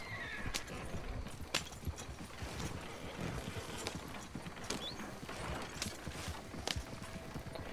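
Repeated horse neighs and whinnies in the video game Red Dead Redemption 2 Online ring out over steady clip-clopping hooves, with a busy, noisy background throughout.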